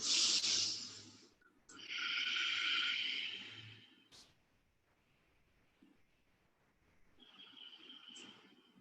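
Deep yoga breaths during a power vinyasa class, with a long hissing inhale and exhale heard close up, a pause, then a fainter breath starting again.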